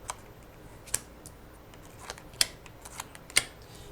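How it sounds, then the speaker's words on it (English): Tarot cards being cut for a reading, a few faint, sharp snaps and slaps of the deck spaced irregularly against a quiet room. "we'll cut those cards"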